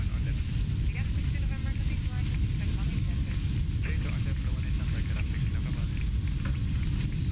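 Steady low roar of Boeing 757-200 thrust reversers in X-Plane 11, a continuous dense rumble of engine and wind noise holding throughout at moderate loudness, with a voice talking over it.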